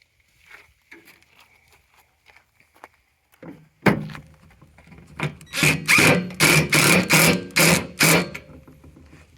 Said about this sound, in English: now you'll be able to put your screws in the back